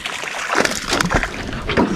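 A landed bass thrashes and splashes water on a clear northern Wisconsin lake, with loud close sloshing bursts that come in irregular surges.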